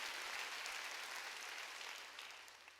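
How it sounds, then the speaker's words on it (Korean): A church congregation claps during a Sunday worship service, a dense, steady wash of applause filling the whole stretch and thinning slightly toward the end, with no talk over it. "깨달은 사람만 박수 치라고, 세게 치라고 박수."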